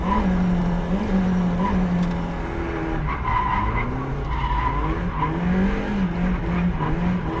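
A Mazda MX-5 Miata drifts on a track, its tires skidding and squealing in long, loud wavering screeches over a steady engine drone, close and continuous.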